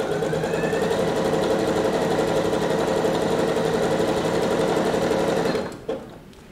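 A Bernette B37 sewing machine stitching at a steady, fast rate, its even mechanical whir running continuously and close before it stops abruptly near the end.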